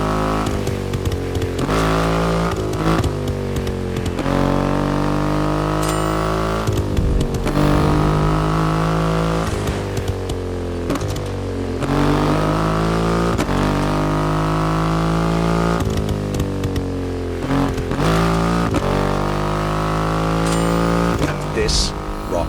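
A Triumph Rocket 3 motorcycle with a 2.5-liter engine revs repeatedly in The Crew Motorfest, deep harmonic roars rising and falling in several loud, close surges.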